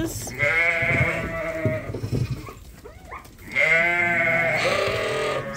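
Cull ewes bleat loudly and close by as they are offloaded from a trailer on a sheep farm, long wavering calls at the start and again near the end, with shuffling noise between.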